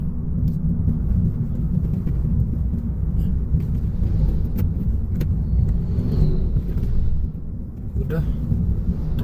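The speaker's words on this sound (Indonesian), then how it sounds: "truk udah mulai keluar itu" A truck rumbles steadily and heavily close by as it pulls out onto a road near Lake Singkarak, with a brief dip in loudness near the end and people talking over it.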